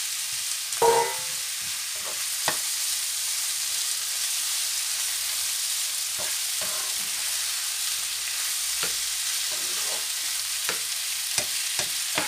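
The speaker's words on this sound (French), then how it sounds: "on mélange tout en écrasant donc vraiment correctement la morue" Vegetables and salt cod sizzle gently in a pan under a continuous soft frying hiss, with occasional scrapes and clicks of a utensil stirring and mashing the fish, close by and without talk.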